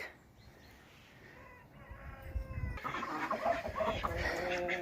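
Soft clucking from several hens in a village farmyard in the morning rises over a hissy outdoor background, growing a little louder and busier toward the end.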